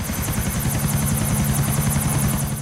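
Helicopter in a GTA video game, a loud steady rotor thump with a constant engine whine, close and continuous with no talk.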